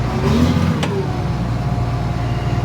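A John Deere 2264 combine engine revs up close, a steady mid-pitched roar with a brief rising surge near the start, then holding loud and even.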